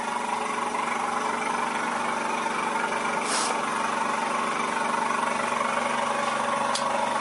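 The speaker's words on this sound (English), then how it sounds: "And then this compressor kicked in." A compressor hums steadily, a constant mid-pitched mechanical drone with faint vibration that runs unbroken, with a couple of brief clicks over it.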